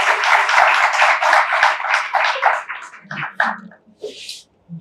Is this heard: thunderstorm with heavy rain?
no